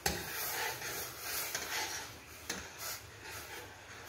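Hot tea being stirred in a cooking pot as it heats toward a boil, a soft continuous scraping and swishing with occasional light knocks against the pot, no talk.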